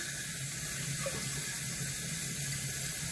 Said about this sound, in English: Let's get a little cold water on the face.